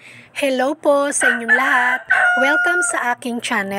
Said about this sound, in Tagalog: pasensya na po sa ingay ng mga manok kasi medyo maraming manok dito sa amin